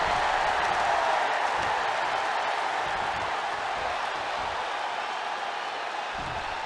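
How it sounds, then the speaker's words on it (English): A wrestling arena crowd in the video game WWE 2K22 applauds and cheers, a dense continuous wash of clapping and crowd noise held at an even, loud level throughout. "The WWE Universe is showing their appreciation for the action they're seeing."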